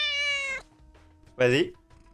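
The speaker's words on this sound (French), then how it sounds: "Le bon miaulement dans le micro" A house cat meows straight into a microphone, giving two loud, close, drawn-out meows separated by a short pause.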